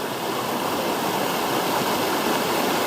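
A narrow stretch of river creek flows steadily over gravel and rocks, a continuous close rushing and gurgling of water that stays loud and even throughout, with no voices.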